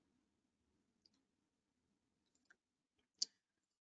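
Faint, isolated computer mouse clicks sound in a quiet room, with one crisper, louder click near the end standing out over low background hum.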